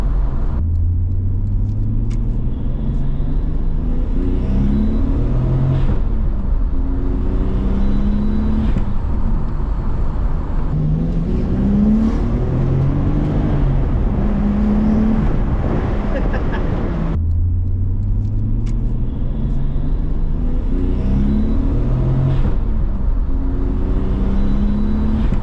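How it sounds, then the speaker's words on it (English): A Nissan Skyline with an aftermarket turbo inlet and pod filter runs in a loud, steady drone with tones that rise and fall as the engine note shifts. "The car's running, driving."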